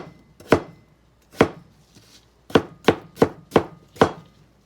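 A knife chops potatoes for borscht on a cutting board, about eight crisp, close knocks in an uneven rhythm with short pauses between, alone and with no talk.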